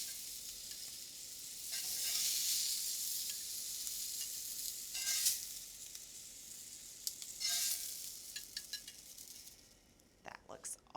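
Steaks sizzle in a hot pan, a broad hiss that swells and fades as they are lifted off, with a few metal clinks and utensil taps toward the end.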